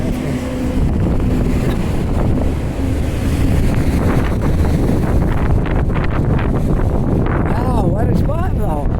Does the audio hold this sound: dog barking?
no